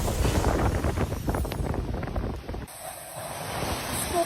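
Strong typhoon wind blows on a beach in Lemery, Batangas, a loud, continuous roar and buffeting against the microphone that eases a little partway through, with no clear voices.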